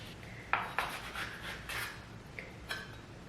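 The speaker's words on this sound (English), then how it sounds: "I'm gonna go ahead and start cutting this red onion" A knife chops through a red onion on a cutting board, a handful of light, irregular knocks and scrapes against the board in a quiet kitchen.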